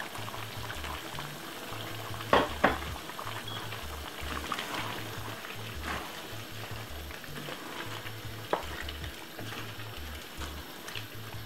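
Chicken stew with vegetables simmering in its own juices in a pot, a soft steady bubbling with a few sharper pops and clinks, fairly quiet and close, no voices.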